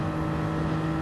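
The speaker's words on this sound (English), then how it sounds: "Revved out a little bit too much." Race car engine in Gran Turismo 7 at Monza, holding a steady high-pitched rev with a constant loud drone for a brief moment, no voices.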